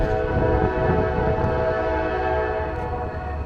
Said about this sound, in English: That's quite an annoying train. What an absolute racket.